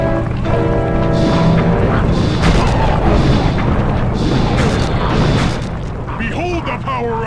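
Turret blasts in Sly 2: Band of Thieves, repeated booming shots and rumbling impacts over game background sound, loud throughout, with a voice speaking over part of it.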